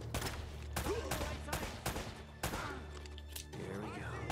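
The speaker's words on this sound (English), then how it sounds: "Shooting through the walls, I see." Gunfire in the video game Uncharted: Drake's Fortune, a rapid series of sharp bursts and cracks spaced through the moment, loud and punchy with the game's background sound underneath.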